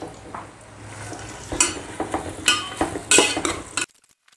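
Sliced onions frying in a pan for biryani, a steady low sizzle broken by repeated sharp clinks and scrapes of a spoon stirring against the metal, close and fairly loud, ending abruptly.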